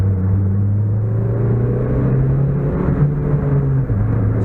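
A Mitsubishi Evo IX accelerating after a coil pack swap, its engine a loud, steady low drone that climbs smoothly in pitch with a brief dip near the end, heard from close by without talk.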